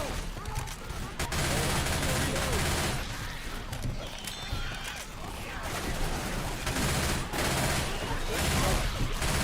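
Dense, continuous gunfire in a shooter video game, a rattling fusillade of rapid shots that carries on steadily throughout, with a voice speaking now and then underneath.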